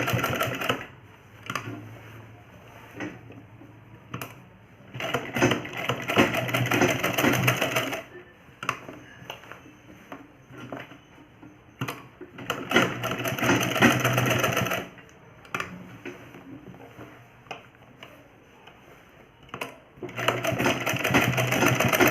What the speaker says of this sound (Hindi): हम किनारे से इसको लॉक करेंगे, क्योंकि ये निकले नहीं, इसलिए सबसे पहले इस पे एक सिलाई लगाएंगे।